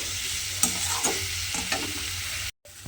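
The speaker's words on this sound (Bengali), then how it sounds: "দিয়ে এবার আলু আর এই মুসুর ডালটা খুব ভালোভাবে মশলার সঙ্গে একটু ভাজা ভাজা করে নিতে হবে।" Potatoes and red lentils fry with spices in a pan, a steady sizzle broken by a few sharp stirring scrapes, close and continuous, with a brief dropout near the end.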